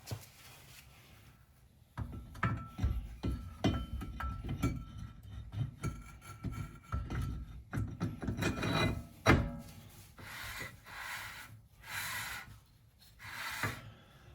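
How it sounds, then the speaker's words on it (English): Scraping, rubbing metal contact in repeated short strokes as rear brake shoes skim the inside of a brake rotor on a 2014 Chrysler 200, near and fairly loud, with occasional light clinks; no voices. "I can hear it just barely skimming the inside of the rotor"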